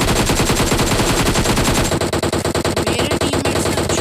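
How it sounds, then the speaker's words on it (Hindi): Automatic gunfire in the BGMI mobile battle-royale game comes as loud, rapid bursts of shots, continuous at first and then in slightly broken, stuttering volleys. "मेरे टीममेट्स ने अच्छी तरह से फायर किया लेकिन कुछ नहीं हुआ उनका।"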